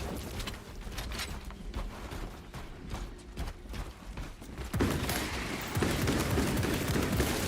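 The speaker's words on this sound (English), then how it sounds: "It's legit shooting like the actual bolt rifle" Rapid video game gunfire from a rifle firing like a bolt rifle, a fast run of sharp cracking shots, followed by a louder, denser stretch of continuous blasting toward the end.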